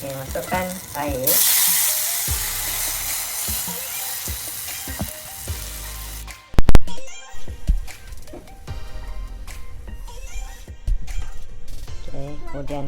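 Water is poured into a hot frying pan of pounded spices and pepper, setting off a loud, sustained hiss and sizzle that later settles into stirring and bubbling, with a voice speaking over it.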